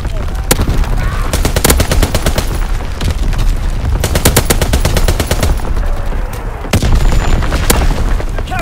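Anti-aircraft battery fire in a Call of Duty: WWII match, a loud, steady rattle of rapid automatic bursts that keeps on with brief gaps, heavy booming underneath.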